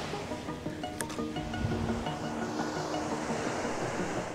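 Ocean surf washes over rocks on an overcast day, a faint, steady hiss of breaking waves with light wind noise and a few brief clicks.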